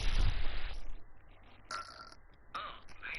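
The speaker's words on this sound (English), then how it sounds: "Nice motivational belch." A single drawn-out belch rumbles up close at the start, loud and throaty, then trails off into quieter room noise with a few faint clicks.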